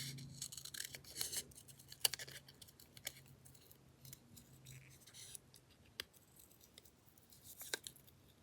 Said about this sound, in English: just kind of like when you fussy cut or whatever